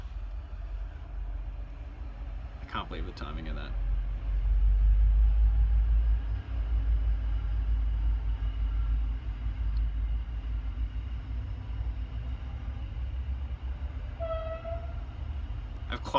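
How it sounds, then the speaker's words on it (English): A coal train rumbles past at a distance, a low continuous roar that swells and lingers, with a brief horn-like tone early on and another near the end while a person speaks briefly over it. "The coal trains, you would know it if it was a coal train."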